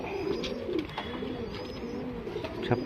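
A male show pigeon cooing nearby, low rolling coos repeating steadily over faint background noise, ending with a sharper flutter.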